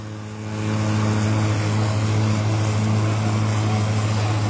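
Stihl and EGO battery-powered lawn mowers run side by side outdoors, giving a steady, loud motor hum with a strong low tone that swells in during the first half second and then holds constant, with no talking.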